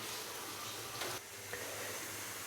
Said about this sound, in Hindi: प्याज को लाइट ब्राउन फ्राई करने के बाद